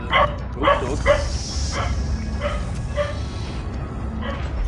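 A dog barks in the Resident Evil 4 video game, a run of six or seven short barks at an uneven pace, moderately loud over a low, steady ambient rumble of game background.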